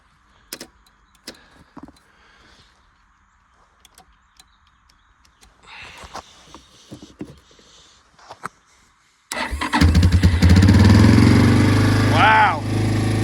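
A small engine with its choke on cranks after a boost from a Brightech Scorpion booster pack, then catches and runs loud and steady. Scattered handling clicks and rustling come first.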